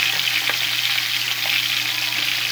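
Onions and browned garlic frying in hot oil in a pan for Filipino ginisang ampalaya, a steady close sizzle with light crackle and a few faint stirring clinks, no talking.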